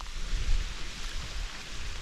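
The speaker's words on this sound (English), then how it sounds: "I'm out in the rain again." Steady rain falling outdoors in Weardale in a wet summer, a continuous broadband hiss with low rumbling texture, evenly loud throughout with no voices.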